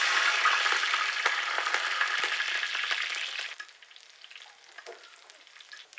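Chopped ginger dropped into hot coconut oil crackles in a loud, dense sizzle with scattered pops, then quiets abruptly partway through to a low, intermittent fizz.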